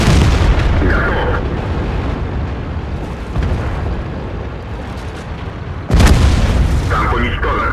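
A tank is destroyed in a tank battle video game, loud booming explosion and rumbling blast noise with a fresh heavy impact midway, game voice chatter underneath.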